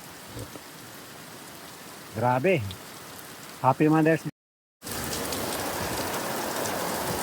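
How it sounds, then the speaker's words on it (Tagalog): Heavy rain pours steadily and loudly in Madrid, Spain, with a couple of short spoken remarks over it and a brief gap of silence. "Ganyan kalakas ang ulan dito."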